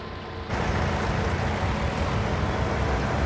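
Tractor engine driving in Farming Simulator 19 while harvesting wheat, a steady loud broadband drone that rises abruptly after a quiet first half-second and holds constant without a break.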